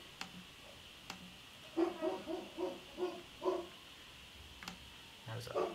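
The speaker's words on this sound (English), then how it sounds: "Barking dog." A dog bark sample played back by a PIC microcontroller, a series of about five evenly spaced, clipped, tonal barks at moderate level, framed by faint clicks and low background hum.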